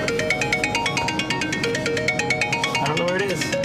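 A mobile phone ringtone plays a repeating melodic pattern, loud and continuous, with a busy background of other sounds mixed in around it.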